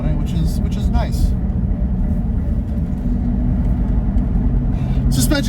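A Range Rover Classic with a Rover V8 and no aggressive muffler, heard from inside while driving: a steady, loud low engine rumble with road noise that runs the whole time, plus a few brief higher sounds that may be voices.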